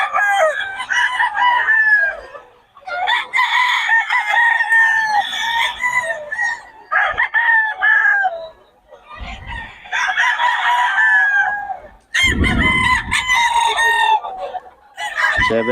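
Several stag roosters crow loudly and close together, one long cock-a-doodle-doo after another with a few overlapping calls and brief gaps, and occasional clucks from the fowl underneath.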